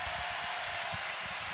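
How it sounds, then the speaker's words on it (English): A basketball arena crowd at an Alabama State vs. Cincinnati men's game gives a steady, broad round of applause as Jizzle James returns, a dense continuous clapping wash with low crowd rumble beneath. "here comes Jizzle James getting a nice round of applause to mark his return"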